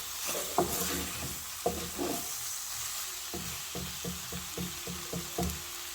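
Spoon stirring and scraping a pan of chicken samosa filling being mixed with black pepper and spices, with soft knocks against the pan over a faint hissing background, close and quiet.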